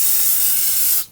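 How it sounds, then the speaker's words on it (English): Spray solvent hisses from an aerosol can around the brake master cylinder reservoir on the firewall of a 2013-2019 Ford Interceptor Utility, one loud, close, continuous burst cutting off sharply after about a second. "I want to go ahead and use some spray solvent"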